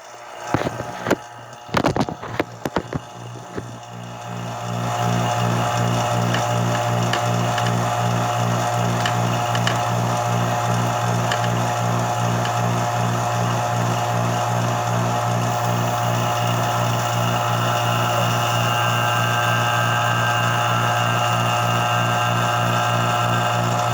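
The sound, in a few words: vacuum pump running for carbon fiber resin infusion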